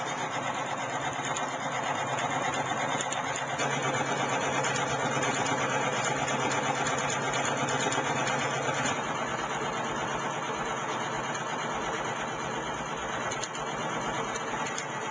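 A fuelless magnet motor generator, a high-efficiency unit with a 2,200-volt DC motor coil, runs steadily with a continuous buzzing whir and constant loudness throughout, alone without talk.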